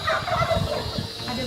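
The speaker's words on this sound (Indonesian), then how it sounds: "Ini ayam hias juga." Ornamental rose-comb chickens on a farm give continuous, close, loud gobbling clucks filling the short moment without talk.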